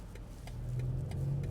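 BMW i5 Touring M60 electric drive in sport mode, a low synthetic whirring hum that swells steadily as the car accelerates, with a faint rhythmic road rumble underneath, fairly quiet and continuous.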